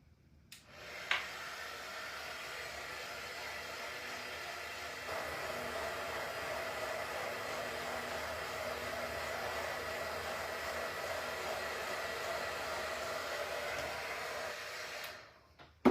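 A hair dryer blows steadily to dry paint on a fall door hanger, a continuous close whooshing hum that shifts slightly in pitch partway through and runs for about fifteen seconds before switching off.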